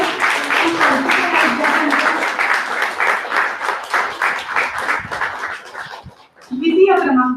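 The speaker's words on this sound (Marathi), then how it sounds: "टाळ्या चालू राहू दे." A crowd applauds at a Marathi school prize ceremony held for Marathi Language Day, a dense, sustained clatter of clapping that fades after about six seconds before a voice speaks.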